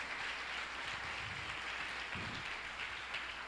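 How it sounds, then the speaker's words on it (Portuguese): A church congregation claps and applauds in praise during a worship service, a dense, steady wash of clapping that fills the whole stretch at moderate volume, with no clear talk over it. "pode aplaudir o Senhor no nome de Jesus"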